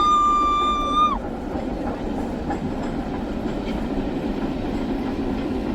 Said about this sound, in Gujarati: જો અભી ટ્રેન આવી ગઈ છે